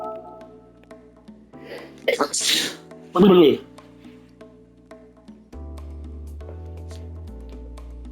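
A person playing Gran Turismo 7 lets out one loud, sharp sneeze, preceded by a smaller burst, with game music and sounds continuing underneath.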